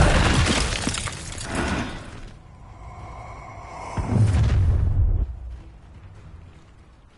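Incendio fire spell cast in the Hogwarts Legacy video game, heard as a loud burst with a crackling, shattering blast, a brief lull with a ringing tone, then a second heavy whooshing, rumbling surge that fades out.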